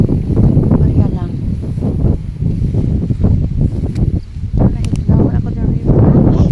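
Strong wind buffets the microphone in loud, rumbling gusts, with a person talking over it throughout.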